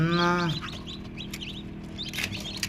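A rooster finishes a drawn-out crow, then several chickens cluck and chatter nearby in short, scattered calls.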